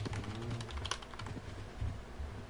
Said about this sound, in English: that was probably just me tapping at my keyboard or something